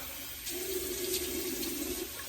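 A bathroom tap runs cold water into a sink during a wet shave, a steady broadband rush that holds evenly for a couple of seconds at close range with no talking.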